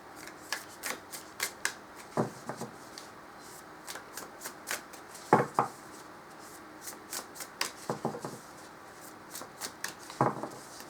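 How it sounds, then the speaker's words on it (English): An oracle card deck is shuffled in repeated quick riffles, crisp fluttering bursts coming in an uneven rhythm, close and fairly quiet. "I'll shuffle and I'll draw a card"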